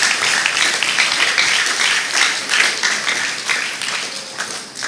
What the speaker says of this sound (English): Shall we all give them a big round of applause as well?